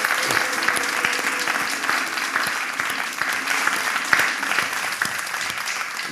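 Steady applause from a church audience after a performance by the Eden choir, dense and continuous throughout with scattered individual claps and a faint murmur of voices.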